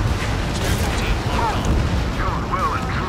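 Rumbling explosions roll on continuously in Ace Combat 7 during a pipeline destruction mission, a dense low booming bed with faint radio chatter and warbling tones above it.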